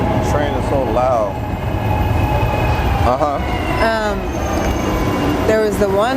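A loud train passes close by with a constant heavy rumble and repeated high metallic wheel squeals cutting through at intervals, while people talk under the din.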